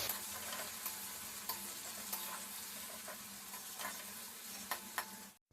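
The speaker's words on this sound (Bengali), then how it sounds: "এবার এই কুচনো পেঁয়াজগুলো এর মধ্যে দিয়ে দেব পেঁয়াজটাও ভালো করে একটু ভেজে নেব" Chopped onions fry in a pan with a continuous faint sizzle, punctuated by periodic stirring scrapes and taps, and no voices.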